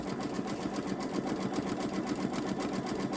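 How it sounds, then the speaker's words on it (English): Babylock Solaris Vision embroidery sewing machine stitching a design onto a t-shirt at about 500 stitches per minute, a steady rapid mechanical whir with fast regular clicking, close and fairly quiet. "It seems like it's about 500 stitches per minute."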